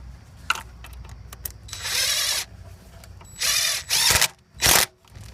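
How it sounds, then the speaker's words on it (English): A hand ratchet tightens hose clamps on an Audi 3.2L FSI engine, with several loud bursts of rapid clicking, short and close, separated by quieter handling noises. "Tighten both of the clamps up."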